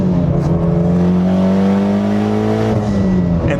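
A Mitsubishi Lancer Evolution X engine roars loudly as it accelerates, its pitch climbing steadily through the revs before easing off near the end.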